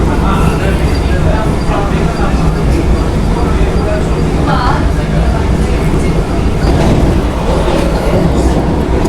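An express train on the Mysuru–Chennai line rumbles past loudly and close, wheels clattering over the rails in a continuous roar, with voices talking over the noise.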